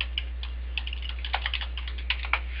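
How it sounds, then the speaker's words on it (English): Irregular bursts of keystrokes on a computer keyboard, close and fairly quiet, clustering into quick runs with short pauses over a steady low hum, no voices. "maybe if I do a better job of typing"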